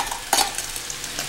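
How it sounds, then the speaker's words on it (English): Garlic sautés in a Saladmaster skillet alongside asparagus, a soft steady sizzle with a sharp clink or stir near the start and faint scraping after. "we're going to saute a little bit of garlic as well"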